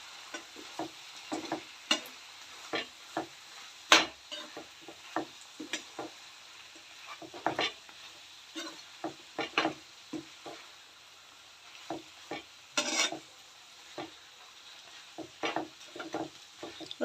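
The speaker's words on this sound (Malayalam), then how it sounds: "നമുക്ക് നന്നായിട്ടൊന്ന് മിക്സ് ചെയ്ത് കൊടുക്കാം." A chicken roast is stirred in a frying pan, with irregular scraping and clacking strokes over a soft, steady sizzle, close and moderately loud.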